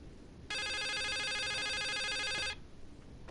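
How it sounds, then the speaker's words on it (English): A telephone rings in the game The Case of Rachel Foster, one sustained electronic trill of about two seconds, loud and steady against a quiet room. "It sounds like a phone ringing."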